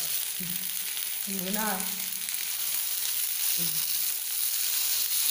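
Malpua sweet pancakes frying in oil on a medium flame, an even, constant hiss of bubbling oil that stays loud throughout, with a few faint tonal background sounds but no speech.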